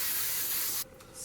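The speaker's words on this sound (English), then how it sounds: "and I'm just going to spray" Spray glue hisses from an aerosol can onto seat cushion foam in a close, steady burst that stops abruptly near the end, with no talk.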